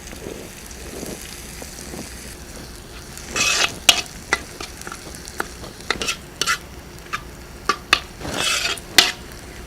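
Spoon stirring masala into curry frying in oil in a pan, with scraping clinks against the metal over a soft sizzle in irregular close bursts.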